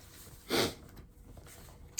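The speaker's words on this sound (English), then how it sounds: "Sorry for that sniff." A single short, sharp nasal sniff sounds up close in an otherwise quiet room.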